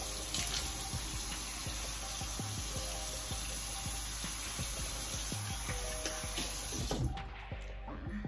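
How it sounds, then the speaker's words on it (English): Tap water running into a bathroom sink while someone wets their face, a steady, close hiss of flowing water with small splashes and handling knocks, cutting off sharply near the end. "I'm about to wet my face."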